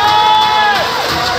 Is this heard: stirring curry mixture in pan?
no